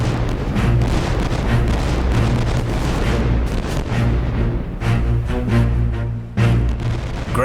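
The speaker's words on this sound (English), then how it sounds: "gunfire from the combined fleet builds to a steady thunder" Heavy naval cannon fire from sailing warships at the Battle of Trafalgar booms continuously, deep overlapping blasts rolling together into a loud, steady thunder.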